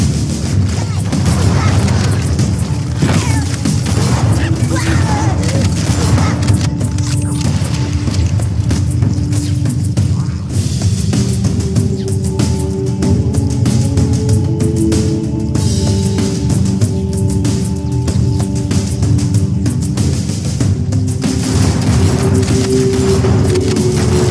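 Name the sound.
frag grenade explosions in the video game Halo CE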